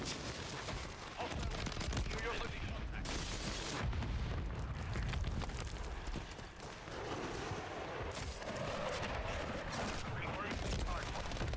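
Grenade blasts and bursts of gunfire in the Warzone video game on Rebirth Island, loud and continuous with booming explosions and rapid shots, under occasional game voice callouts.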